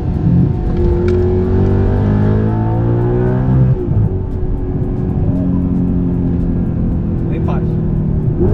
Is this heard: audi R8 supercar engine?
yes